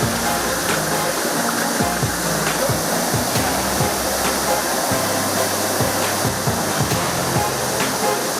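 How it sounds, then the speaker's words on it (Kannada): Surlabbi waterfall near Madikeri, on the road from Madapura to Surlabbi, roaring as a steady, dense rush of falling water that fills the whole stretch at close range with no break. "250ರಿಂದ 300 ಮೀಟರ್ನಷ್ಟು ಉದ್ದ ಹರಿಯುವ ಈ ಫಾಲ್ಸ್ ಮಾದಾಪುರದಿಂದ ಸೂರ್ಲಬ್ಬಿಗೆ ಹೋಗುವ ಮಾರ್ಗ ಮಧ್ಯದಲ್ಲಿದೆ"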